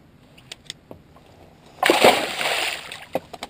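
A catfish is let go back into the water during winter fishing, making one loud splash and slosh that lasts about a second, with a few faint knocks before and after.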